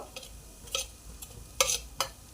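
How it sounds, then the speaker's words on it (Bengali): Chilli, turmeric and cumin powders stirred into frying chicken kosha, with a soft background sizzle broken by several sharp spoon scrapes and clinks against the pan at irregular intervals. "এবার আমি মশলাগুলো একে একে দিয়ে দেব। লঙ্কার গুঁড়ো, হলুদ গুঁড়ো, জিরের গুঁড়ো"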